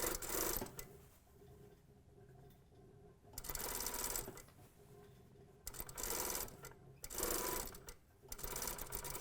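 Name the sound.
sewing machine stitching a circle drape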